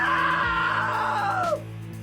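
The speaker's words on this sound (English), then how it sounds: "Now that was a great scream" A woman's long, shrill scream in the story game What Remains of Edith Finch holds steady, then slides downward and cuts off. Low steady music plays underneath.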